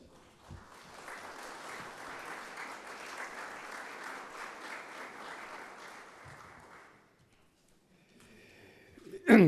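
Sustained applause from a seated audience at the opening of an international seminar on democracy, constitution and pluralism, a steady wash of clapping lasting several seconds before dying away into near silence, followed by a sudden loud knock at the very end.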